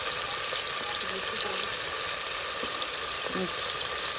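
A small amount of tomato frying in a pan for homemade dal, with a continuous close sizzle and faint crackle running the whole time, and a voice briefly audible in the background.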